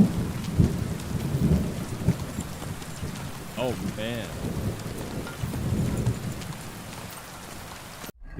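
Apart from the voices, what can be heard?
thunder in a thunderstorm, from the video game Kingdom Come: Deliverance 2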